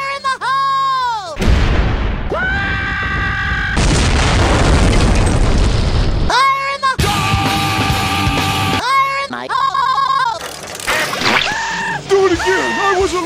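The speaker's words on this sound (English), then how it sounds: "I designed this mechanism specifically to shoot bombs to Squidward's house." Cartoon bomb explosions launched from a homemade mechanism at a neighbor's house, several loud booms and bursts in quick succession, mixed with brief squeaky cartoon voices and yells between the blasts.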